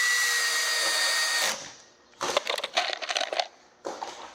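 Classic rib metal panels are screwed onto a Tuff Shed with a power driver: a steady whirring drive first, then a short gap, then bursts of rattling metal crunch and a final brief buzz, loud and close.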